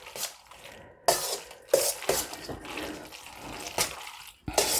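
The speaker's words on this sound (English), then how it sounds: "I'm just going to add just a little water." Bottled water poured into a pot of macaroni and cheese while cooking, a soft splashing trickle in several short bursts with brief pauses, close and moderately loud, no talking.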